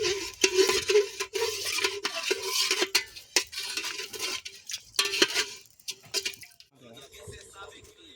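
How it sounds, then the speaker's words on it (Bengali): Pulao rice being stirred in a pot for a chicken-and-pulao meal cooked outdoors in Sonajhuri forest: repeated scraping and clinking of a utensil against the pot, close and steady, with people talking intermittently. "এবার ভালো করে নেড়ে নেবো।"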